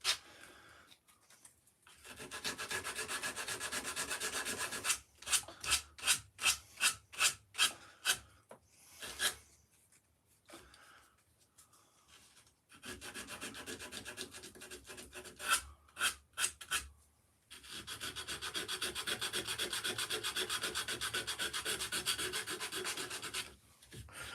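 Hand sanding on a wood carving in a workshop: long continuous rasping strokes alternate with bursts of short, quick rhythmic rubs, fairly close and steady, with brief quiet pauses between passes.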